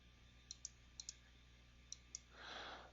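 Computer mouse clicking in three close pairs of crisp, quiet clicks, each pair a split second apart, followed by a soft rustle at the end.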